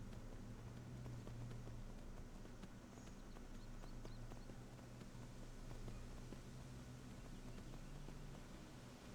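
Horse hooves clip-clopping steadily in the video game Skyrim, a quiet, even rhythm of hoofbeats over a low ambient hum, with no talk.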